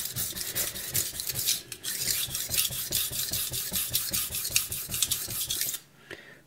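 A VG10 steel knife blade is rasped back and forth across a coarse 120 grit Shapton stone in quick, regular gritty strokes, close and continuous for several seconds before stopping abruptly, with no talk.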